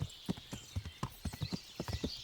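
Horse hooves clip-clop in a video game, a quick run of about a dozen close, evenly paced hoofbeats with faint background tones behind them.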